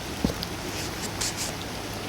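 Heavy rain pours down near a river, a dense, steady wash of noise with a few brief louder taps standing out from the constant downpour.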